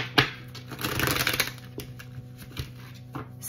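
Tarot cards riffled and shuffled in the hands, a soft papery flutter peaking in a brief burst near the start, then lighter scattered taps and shuffles, close and fairly quiet with no talking.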